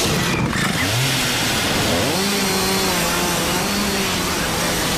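A Husqvarna engine revs up and down, its tone rising and falling in a loud, steady drone with no one talking.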